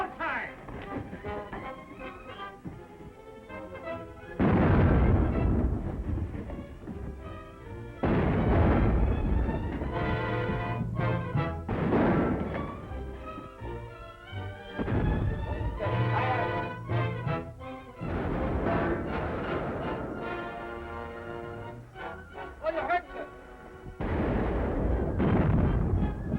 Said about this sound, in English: Stand by for broadside.